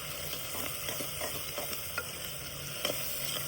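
Onions and brinjal being sautéed in a pan for kara kulambu, a steady close sizzle with intermittent scraping stir strokes throughout, no talk.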